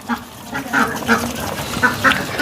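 Ducks being fed food mixed with lemon juice quack in several short, irregular bursts, close and fairly loud, amid soft shuffling and no speech.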